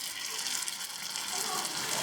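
Water poured from a mixer jar into a pan of masala gushes in a short, steady splashing stream, close and continuous, ending with a slight clink.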